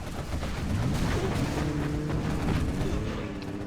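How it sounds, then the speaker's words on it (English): Overlord tank cannon fire against an artillery platform in a real-time strategy video game, heavy booming blasts layered under continuous loud battle noise with no voices. "pcap with the Overlord going after the arms dealer as well as the artillery platform and the quad cannon"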